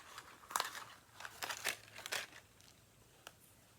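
Die-cut gold foil paper bell pieces being pulled free from their sheet, giving a series of close, crisp crinkling and tearing rustles that come in bursts and then trail off, with no speech.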